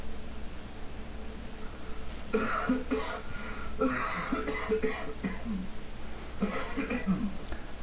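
A man coughs and clears his throat in a few rough bursts against steady background hiss, close and fairly loud, with a short pause between fits.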